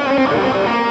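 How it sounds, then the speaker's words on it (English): Electric guitar played through distortion and delay on a high-gain setting, a single sustained, saturated chord ringing thick and loud for about a second with no talk. "I'm going to add in some distortion and delay."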